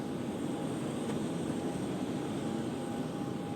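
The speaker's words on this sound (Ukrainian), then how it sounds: "От позаду літак." An airplane at an airport in Kazakhstan gives a steady, fairly loud broadband engine roar that holds evenly throughout, with no talking.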